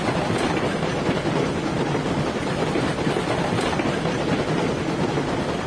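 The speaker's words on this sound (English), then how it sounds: "I'm using the first locomotive you named." A locomotive runs steadily in a video game, giving a continuous loud rumble and rush with faint rail clatter and no change in pace.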